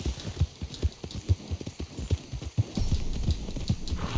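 Horse hooves clip-clop at a steady walking rhythm in Red Dead Redemption 2, close and clear, with a low ambient background.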